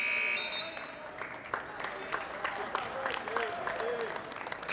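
A basketball shot clock buzzer sounds loudly at the start of a high school boys' game, then cuts off into crowd noise and cheering, with talk mixed in.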